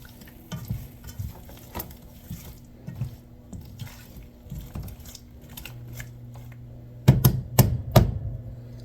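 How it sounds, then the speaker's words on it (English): Chicken cooks in a pan for a penne dish with spinach and peas, a soft intermittent sizzle broken by utensil scrapes and clinks, then several sharp clattering knocks near the end. "hopefully the chicken will be browning enough by then that I can start adding in some of the other ingredients"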